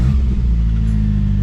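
Engine of a cheap $2,500 project car running right after starting, a steady low rumble and idle drone, loud and close, with no talk.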